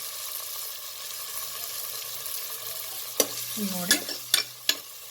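Tomatoes and masala frying over a medium flame for masala jeera rice, a soft steady sizzle that gives way to several sharp scrapes and knocks of a spoon stirring in the pan, with one word spoken briefly.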